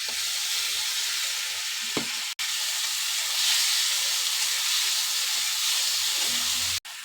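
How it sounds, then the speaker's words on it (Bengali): Spices and fried potatoes sizzle in hot oil for a dimer jhol curry, a loud, steady hiss broken by a couple of brief stirring knocks, with no talking. "মশলাটা আমি ভালো করে আলুর সাথে ফ্রাই করে নিচ্ছি"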